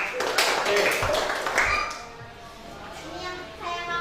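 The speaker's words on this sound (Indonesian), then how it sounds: "tepuk tangan" Classroom applause from students breaking out after a question, a burst of scattered, overlapping claps for about two seconds that quickly fades to a few light taps.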